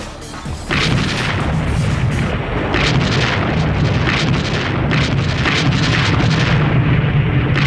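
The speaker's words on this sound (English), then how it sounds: "It always began with an extended artillery barrage." Continuous artillery barrage from a World War II assault on a defended hill in France, with dense rolling booms and repeated heavy blasts layered over a constant low rumble, loud and unbroken throughout.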